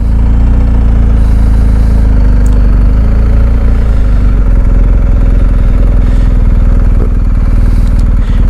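A motorcycle engine runs loud and close, its throaty rumble steady at first, then shifting as the bike gets underway.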